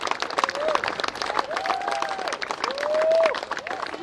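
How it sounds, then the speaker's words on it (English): A crowd at an outdoor Australia Day event in Melbourne applauds, a continuous patter of clapping with rising whistles and cheers over it, swelling slightly toward the end. "let's give the Jewish people an applause"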